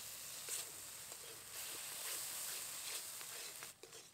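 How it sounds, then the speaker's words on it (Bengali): Masala paste with cashew and melon seed paste frying in oil for a banana flower kofta curry, a soft continuous sizzle with faint stirring scrapes, quiet and close. "এবার খুব ভালোভাবে মশলা থেকে তেল ছাড়া পর্যন্ত কষিয়ে নেব।"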